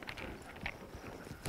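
Hooves of a horse clip-clopping at a walk as a rider on horseback works a young colt during colt starting; steady, fairly close hoofbeats with no talk.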